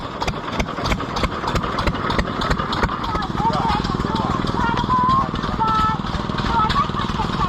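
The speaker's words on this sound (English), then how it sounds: "an Empire cream separator engine, or badged as that anyway" Antique Empire cream separator gas engine running at a county fair engine display, a steady rhythmic chuffing beat with sharp periodic pops over crowd chatter and background machinery.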